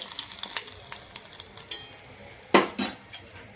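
A spoon scraping and clinking through potato vada batter with a little heated oil mixed in, a series of soft light stirring taps building to two louder scraping strokes near the end, close and with no talk.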